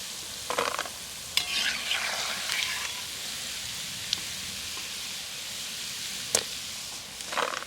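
Small gaja sweets sizzling in hot oil, a steady soft frying hiss with a few sharp clinks and scrapes of a utensil stirring through the pan, no talking.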